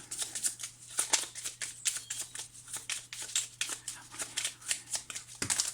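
Oracle cards are shuffled in a rapid, crisp riffling patter of many quick flicks, close and fairly soft, continuing through the whole stretch without talk.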